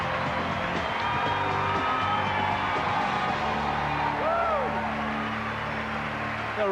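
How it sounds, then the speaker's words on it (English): A rowdy audience at the 2005 Miss USA Pageant in Baltimore: steady whoops, cheers and scattered clapping that hold at a roaring level throughout, with individual shouts rising above the crowd. "A rowdy little crowd we have in Baltimore."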